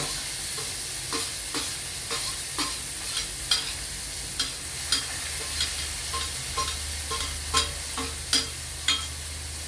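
Shallots and green chillies frying with mustard seeds and salt in a pan for a drumstick-flower thoran, giving a steady broadband sizzle with a regular series of soft scraping stir strokes throughout, no voices.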